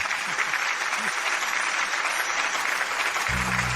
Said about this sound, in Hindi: तालियों की गड़गड़ाहट हमारे नवविवाहित जोड़े के लिए उनके इस बड़े दिन पर।